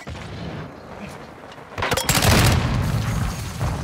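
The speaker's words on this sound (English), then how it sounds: "Look, he shot me through the wall." Gunfire in the multiplayer video game Call of Duty: Modern Warfare II, a muffled, distant-sounding burst that rises into a louder booming volley in the second half, with a voice talking faintly.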